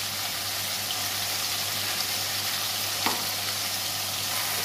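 Mustard and green chilli paste fries with softened tomato for a fish curry, hissing in a loud, continuous sizzle over a low steady hum, with one brief utensil tap near the middle and no voices.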